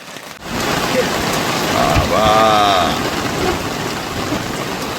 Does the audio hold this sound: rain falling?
yes